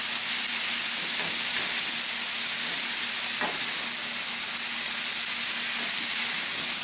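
Basil frying in a hot pot for a tailgate ribs and mac and cheese meal, a steady close sizzle and hiss with a few faint stirring scrapes.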